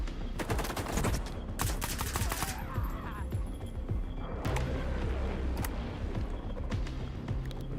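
A Stalker 2 firefight rattles with bursts of automatic gunfire and single shots in rapid, loud clusters. Brief pauses break the bursts, and faint voices sit underneath.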